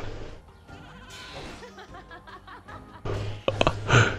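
A sheep-like bleat from a sheep in Skylanders Giants rings out amid electronic game sounds, with a short chuckle and a few louder bursts at the end.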